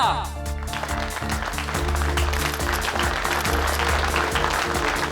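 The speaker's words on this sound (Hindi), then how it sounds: "जोरदार तालियां।" An audience at a fashion show competition claps for the judges, a dense crackle of applause running throughout over a loud backing music track.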